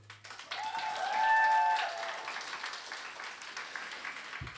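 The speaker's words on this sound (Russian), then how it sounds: "Вы нам аплодируете, мы вам говорим «спасибо»." A concert crowd applauds at a rock band's album presentation: moderate, sustained clapping that swells, peaks and then thins out, with a brief whistle-like tone above it.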